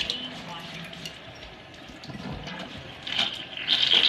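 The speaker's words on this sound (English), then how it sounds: "I'm gonna rinse them off really quick, rinse off a handful of them" Tap water runs faintly over broccoli microgreens being rinsed in a kitchen, a soft splashing stream that grows louder toward the end, with some background voice.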